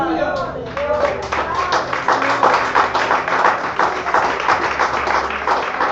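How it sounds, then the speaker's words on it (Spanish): Church congregation clapping loudly and steadily in rhythm during an evangelical service, a dense wash of hand claps with voices and singing mixed in underneath. "Dale fuerte las palmas al Rey"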